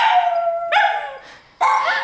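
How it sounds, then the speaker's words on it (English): Dogs howl loudly and close by in long, wavering, overlapping howls, with a short break before a fresh howl starts up again. "They really like to howl when the phone rings"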